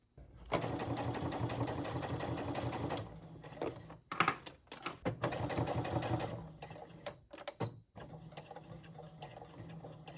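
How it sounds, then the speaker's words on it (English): A sewing machine stitches a quarter-inch seam through the layers of a boxy bag, with backstitching at the start and stop. Two long steady runs of stitching are broken by short bursts and pauses, close and clear, with no voices. "you're just going to sew about a 1/4 inch from the edge all the way through"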